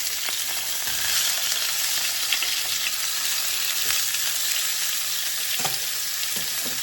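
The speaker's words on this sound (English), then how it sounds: "let's flip our pork chops and see how they're looking" Boneless pork chops searing in a hot pan, a loud steady sizzle close by with a few clinks and scrapes as the meat is turned, no talking.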